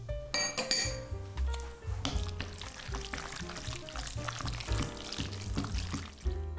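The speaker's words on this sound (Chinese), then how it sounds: "然后冲着一个方向把肉馅调拌均匀" Minced beef filling seasoned with chicken powder, pepper, soy sauce and oyster sauce being stirred in one direction in a bowl, a steady run of clinking and scraping utensil sounds, close and busy, with no talking.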